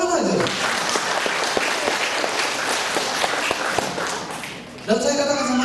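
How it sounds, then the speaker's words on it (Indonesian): Applause from an audience at a business seminar, a burst of brisk clapping lasting several seconds before cutting off abruptly, followed by a brief return of room sound. "Tadi ada yang mau tepuk tangan aja"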